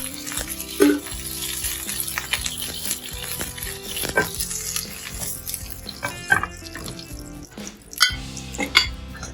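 Three tablespoons of desi ghee heating in a pan for gur makhana: a constant, close frying sizzle with scattered clinks and clatters of a utensil against the pan, and no voices.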